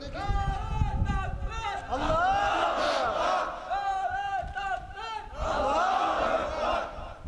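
A crowd roars a takbir chant in loud, massed bursts, rising and falling in waves, each surge of many voices shouting together before dropping back, then swelling again.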